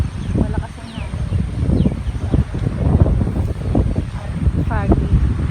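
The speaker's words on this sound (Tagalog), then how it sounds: "Kita nyo po, malakas ang hangin." Strong habagat wind during Typhoon Ulysses in the Philippines, gusty blustering roar buffeting the microphone in uneven surges, with faint bird chirps and brief speech-like sounds mixed in.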